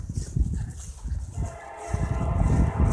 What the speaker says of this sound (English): Here comes the train, so I'm gonna quit talking.